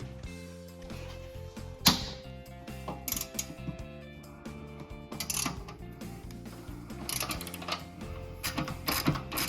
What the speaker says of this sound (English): Double wrenching action.